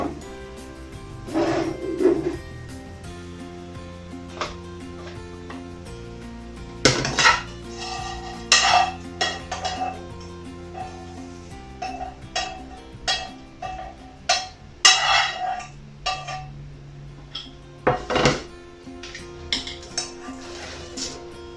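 Spinach is roughly cut and mixed into vegetables for a quinoa bowl, giving quiet intermittent knife clacks, utensil clinks and scraping against a bowl, with bursts of louder handling between softer pauses.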